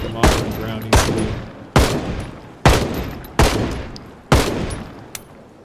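Six loud, heavy rifle shots from an M14 in the zombie survival game Project Zomboid, fired one at a time with roughly a second between them, each crack sharp and close with a short decaying tail.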